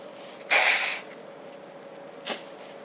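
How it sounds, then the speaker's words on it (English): A person blows their nose in one strong, close, noisy burst, followed by a shorter, softer snort a moment later. "I just need to blow my nose."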